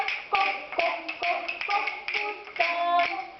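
Tapping and knocking in a children's Christmas party song, a steady beat of light taps under a sung melody.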